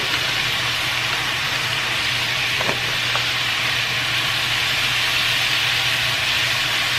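Peppers and broccoli stir-fry in a pan for a keto beef stir fry, giving a steady, even sizzle and hiss that holds at a constant level throughout with no talking.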